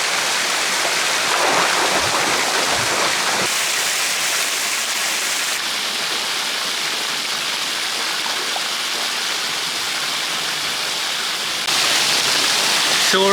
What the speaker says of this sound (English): the waterfalls are just spectacular